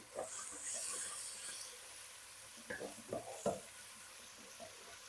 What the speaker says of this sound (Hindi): ये चल रही है भुनाई प्याज और लहसुन